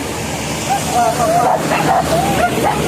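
Hunting dogs on a pig hunt in West Sumatra yip and whimper in short, high bursts close by, mixed with people talking.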